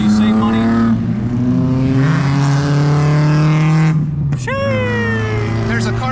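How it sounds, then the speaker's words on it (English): A car revs at an outdoor car show, its engine note rising and falling steadily for several seconds, close and loud, with a brief sharp squeal near the end as people talk over it. "There's a car show going on,"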